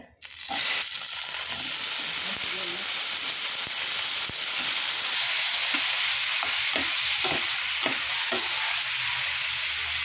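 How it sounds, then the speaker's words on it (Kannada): Tomatoes and green tomatoes frying in hot oil in a pan, a loud steady sizzle with hissing steam running throughout and occasional stirring clicks near the end. "ಈಗ ಇದಕ್ಕೆ ನಾವು ಟೊಮೊಟೊ ಹಾಕೊಂಡು ಟೊಮೊಟೊ ಕಾಯಿನ ಹಾಕೊಂಡು ಹುರಿಯೋಣ"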